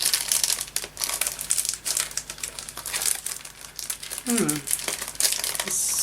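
Plastic packaging around a sticker sheet crinkles and crackles steadily at close range, with a brief squeaky rustle near the end and a voice murmuring in the background.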